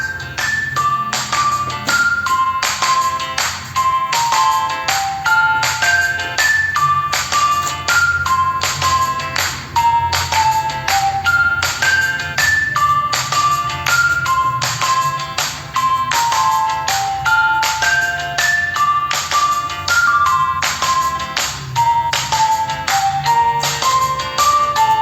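A Xiaomi Redmi 9 smartphone's single mono speaker plays a bright melodic sample, a steady stream of plucked, tinkling notes with a repeating rhythm, loud and continuous throughout with no voices.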